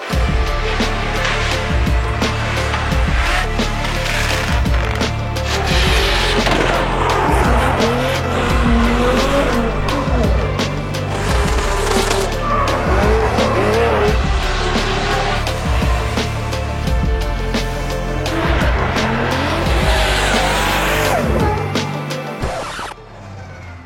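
Drift cars practice at a Drift Masters round in Riga, their engines roaring loud and continuous with screeching tire squeal and skids layered over the top for the whole stretch before fading at the end.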